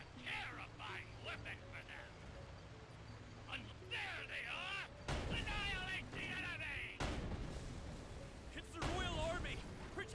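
A tank fires in the Sand Land video game, with several heavy, booming blasts bursting over a bed of game music and effects, interspersed with voice-like sounds.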